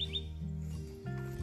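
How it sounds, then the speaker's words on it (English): A Kirtland's warbler calls from jack pine breeding habitat in Michigan, a brief high chirp at the start, then faint background over low steady hum. "So you can actually hear the warbler calling behind me right now,"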